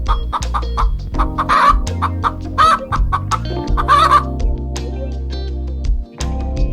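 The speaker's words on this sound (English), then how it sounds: "Yes, that's correct. It's a hen." A hen clucks repeatedly in a rapid, uneven series of sharp calls, loud and close, with bursts of louder squawking cackles in between and a steady low background bed.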